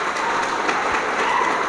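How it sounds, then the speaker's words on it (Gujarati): A short burst of steady crowd applause for the Class 12 English-medium commerce students at a high school function, even and continuous without voices. "જોરદાર તાળી થઈ જાય."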